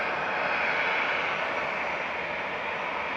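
EasyJet airliner engines run at Manchester Airport, giving a constant broadband roar with a steady whine layered in, at moderate distance and unbroken throughout with no talk.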